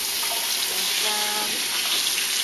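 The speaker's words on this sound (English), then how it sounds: "Put that in the sink. And now you want to rinse them off." Water from a kitchen sink tap runs steadily over beans being rinsed in a drainer, a continuous close splashing hiss with no pauses throughout.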